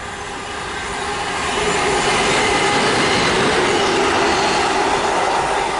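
An express train races through Beeston station at speed, a loud, steady roar with rail clatter building over the first two seconds and holding close and continuous to the end, with no voices.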